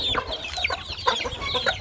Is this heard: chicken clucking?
yes